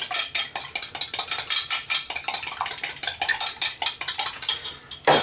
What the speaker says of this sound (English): So to that end I'm going to beat up a couple of eggs.